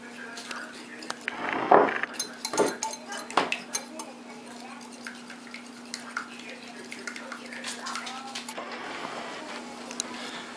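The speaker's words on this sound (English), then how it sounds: "you're going to whisk the egg yolks until they get really thick and a lighter shade of yellow" Egg yolks are whisked in a bowl for chocolate mousse, with a steady metallic scraping and clinking near the microphone, several sharper clinks early on, and a faint continuous hum underneath.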